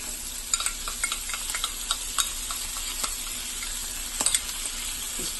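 Tomato paste with mixed ingredients is stirred in a pan for a Moroccan fish ball tagine, giving soft scraping strokes and light ticks over a steady low sizzle, close and moderately quiet, with no talking.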